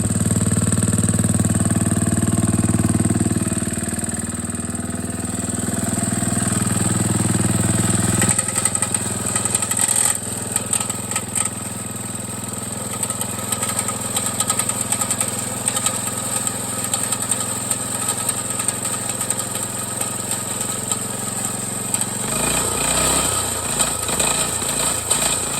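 An old Continental riding mower engine starts and runs, a loud rough idle with a shift in pitch and a rattling, uneven chug building near the end, close and without voices.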